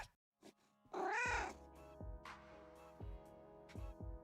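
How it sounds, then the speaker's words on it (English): Cat in the Arknights game gives one clear, rising-falling meow, followed by soft piano notes and a quiet backdrop. "Oh, cat."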